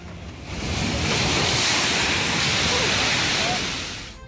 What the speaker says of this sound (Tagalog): Halos lamunin ng malalaking alon ang dumaraang fire truck na ito sa kalsada sa Virac.